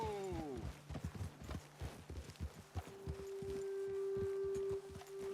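Horse hooves walking in Red Dead Redemption 2, a steady clip-clop of several near hoof falls that slows toward the end, with a held tone and a low murmur underneath.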